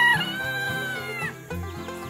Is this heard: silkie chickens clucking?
yes